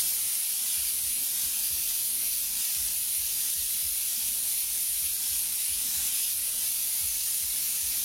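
Paint overspray hissing from a spray gun around stencil edges, a steady airy spray held constant for several seconds, close and unbroken, with no voices.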